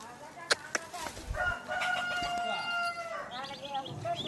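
Chickens clucking and a rooster crowing close by, with scattered squawks and a voice talking in the background.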